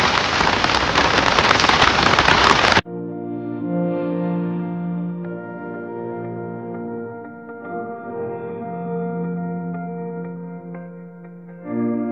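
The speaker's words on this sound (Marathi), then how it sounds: "खूपच निसर्गरम्य वातावरण आणि त्यातच चिंब चिंब असा पाऊस पडताना।" Heavy rain pours in a loud, dense roar for about three seconds in a scenic hilly spot near a waterfall, then cuts off abruptly as steady music takes over for the rest.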